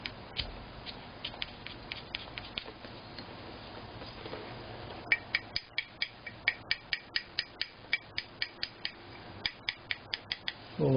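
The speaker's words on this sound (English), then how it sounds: "scrape that down" Scraping down a high spot on a violin tailpiece with a hand tool, a close run of short, regular dry scrape strokes that grows into a steady rhythmic series in the second half.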